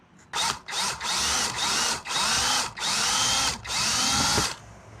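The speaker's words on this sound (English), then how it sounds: "see the hole I drilled is well into that piece of plastic" A power drill bores a hole into a piece of plastic, several loud close whirring bursts of a second or so each, separated by brief pauses as the trigger is released.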